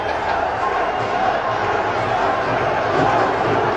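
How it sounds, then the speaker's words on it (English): A stadium crowd at a PSL 2018 cricket match in Lahore roars and chants steadily, a dense continuous wall of many voices with no break. "Crowd chanting."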